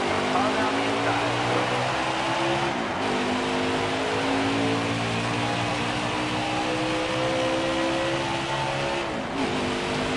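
Craftsman Truck Series race trucks at Auto Club accelerate on a green-flag restart: a loud, continuous multi-engine roar with rising and falling pitch sweeps as trucks pass, heard over radio with intermittent talk.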